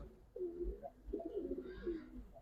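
Silver Giribaz pigeons coo softly in a few rolling, throaty phrases, close by, with faint low background noise.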